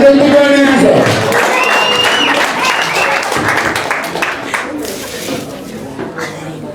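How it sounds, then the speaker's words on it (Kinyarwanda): An audience applauds to welcome a speaker onto the stage at a back-to-school farewell event for students, loud and steady at first, then thinning into scattered clapping, with a voice heard over the start. "tubwakirane n'amashyi"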